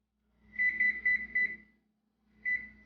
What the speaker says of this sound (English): We're going to set our timer for 16 minutes.